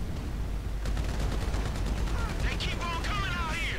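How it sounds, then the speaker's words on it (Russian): Dense, continuous automatic gunfire from a GTA 5 Winter Edition shootout rattles loudly throughout, with whistling and squealing effects rising late in the burst. "Слепую стреляю, потому что не видно ничего."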